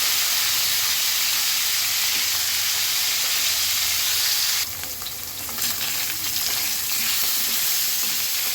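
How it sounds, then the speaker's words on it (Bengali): Rohu fish pieces sizzling in hot oil in a pan, a steady dense frying hiss throughout with a brief burst of sharper spattering partway through, close and loud with no talk. "প্রথম হচ্ছে মাছগুলো ভাজতে হবে"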